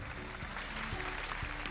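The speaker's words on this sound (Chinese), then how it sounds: "好，大家给他个掌声" Applause from a studio audience greeting a performer on an archaeology lecture show, dense steady clapping throughout with a low hum underneath.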